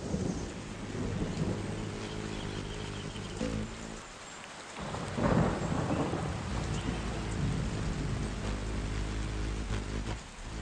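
A thunderstorm soaks a garden: a constant dense patter of rain on surfaces, with a deep rolling thunder rumble swelling near the middle, heavy and enveloping, with no voices.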